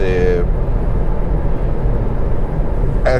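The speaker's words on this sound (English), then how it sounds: "actually the wind noise is higher now." Steady broadband wind rush and tire roar fill the cabin of a Kia e-Niro electric car driving at speed, a constant loud low drone, with a voice briefly heard at the start and end.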